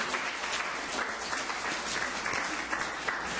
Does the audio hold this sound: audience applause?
yes